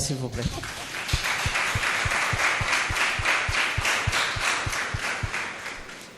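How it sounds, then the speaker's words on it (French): An audience applauds at a talk on careers in the food service and processing industry; dense clapping runs throughout with a steady rhythmic thump beneath it, after a brief spoken phrase at the start. "je voudrais que vous applaudissiez pour vous d'abord"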